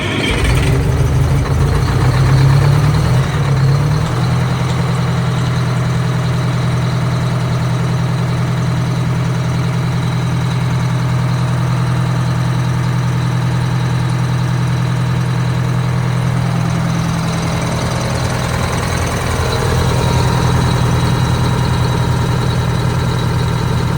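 A Prevost bus diesel engine idles steadily just after fresh fuel filters are fitted, a loud continuous low rumble with a brief rougher surge at start-up that settles into an even idle with no talk.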